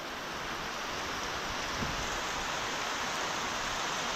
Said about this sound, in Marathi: बघू शकता पाऊस किती जोरात लागतो.